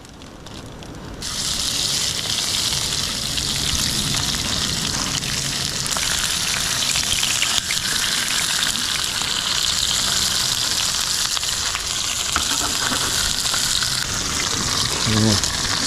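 Prawns hit a hot plate beside fried onions at a truck camping site and sizzle loudly and steadily up close, a continuous crackling hiss that holds for the whole stretch.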